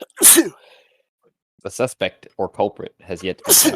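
A single sharp sneeze bursts out at the start, then a person speaks in a calm voice, and a second sneeze-like burst lands near the end.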